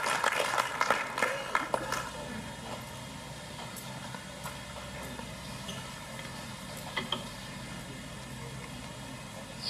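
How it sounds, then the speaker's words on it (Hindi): An audience at a GST business seminar in Chandigarh claps to welcome a guest speaker, a brief burst of applause that fades into a low hum of room noise. "तो तालियों के साथ वेलकम करिए श्री अनिल वोरा जी का"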